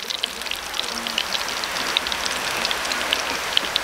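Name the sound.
rain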